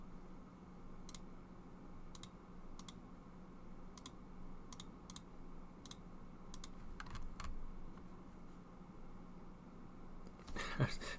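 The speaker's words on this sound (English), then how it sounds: "he's typing again." Computer keyboard typing during an online strategy game session, sparse clicking keystrokes spaced irregularly, faint and close against a steady low hum, ending in a brief flurry.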